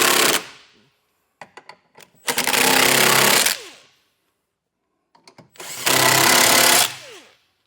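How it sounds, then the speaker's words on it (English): A power tool with a 3/4 inch socket runs down hitch bolts on a 2021 Ford Transit in two loud whirring bursts, each lasting over a second, with a few sharp clicks of setup between them. "I'm going to snug them down using a 3/4 inch socket"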